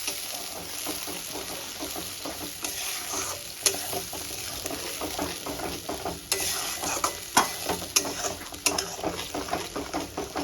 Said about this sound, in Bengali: ভালো করে এই পেস্টটাকে আমি কষিয়ে নেব, এই কাঁচা গন্ধটা যেন না থাকে